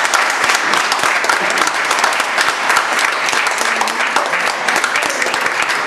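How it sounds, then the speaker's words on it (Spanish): A crowd in a city council chamber in Ciudad Madero gives a loud, sustained round of applause, a thick, unbroken wash of clapping hands lasting several seconds. "otra vez un fuerte aplauso"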